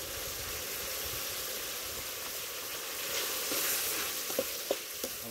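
Tomatoes, coriander and curry leaves sautéing with a little salt for a Vellore-style brinjal kuzhambu, a soft, even sizzle that swells slightly near the end with a few light utensil taps.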